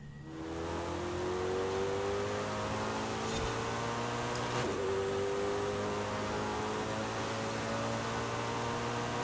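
A race car engine in Forza Horizon 5 drones steadily throughout a lap, its layered tones holding loud and constant with slight rising pitch shifts and no voices.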